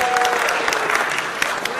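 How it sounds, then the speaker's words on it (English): Audience applause at a variety show, a steady wash of clapping from a crowd that holds evenly throughout the clip, fairly loud and close. "we get a round of applause for that."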